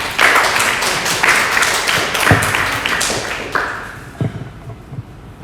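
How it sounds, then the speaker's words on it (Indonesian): Audience applause at an Indonesian book launch event for eight motivational books, a burst of dense clapping with a few louder thuds that thins out and fades toward the end. "tepuk tangan untuk beliau"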